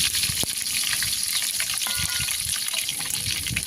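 Onions frying in a pan, a steady close sizzle and crackle that runs the whole time with a few faint stirring scrapes.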